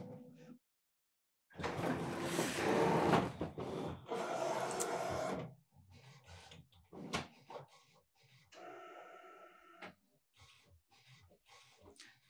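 Brother Print Moda fabric printer at work printing onto a roll of fabric, with bursts of broadband mechanical whirring and clattering, then softer intermittent motor and carriage noises and a brief higher-pitched tonal passage, fairly close and with no talk.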